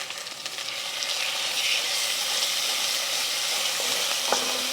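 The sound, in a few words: spicy rendang curry paste frying in a pan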